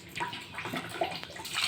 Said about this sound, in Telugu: సరే, ఇంకా ఈ వాటర్ అయితే ఉండేసి మంచినీళ్ళు అయితే వేసేద్దాము.